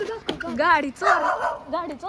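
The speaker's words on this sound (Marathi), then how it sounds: "कुत्र्या ओरडू नको" Close, excited yips and barks from a dog come in short bursts, and a person's voice overlaps the barking.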